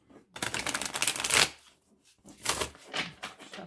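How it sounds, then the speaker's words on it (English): Soft, flexible cardstock Faerie Tarot cards, a wide-format deck, being shuffled by hand in two close, crisp riffling bursts separated by a brief pause, with a shorter flutter at the end. "Shuffle this a couple times and see."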